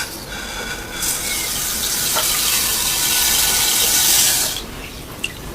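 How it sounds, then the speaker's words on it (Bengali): Water runs from a tap into a bowl of lightly roasted mung dal for washing, a loud rushing stream that starts abruptly, flows steadily for a few seconds, then cuts off, followed by a small clink. "গরম মুগ ডালটাকে আমি পানিতে দিয়ে দিচ্ছি।"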